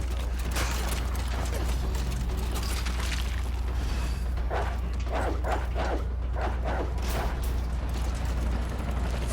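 Zombie dogs barking in Resident Evil 3 Remake, a run of sharp barks and yelps clustered in the middle of the stretch over a steady low game hum and mechanical clanking, no talking.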